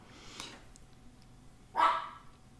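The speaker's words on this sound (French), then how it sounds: "Je ne sais pas pourquoi mon chien aboie comme ça." A dog barks in a short, sharp burst, with a fainter yip earlier, heard indoors at moderate distance against a quiet room background.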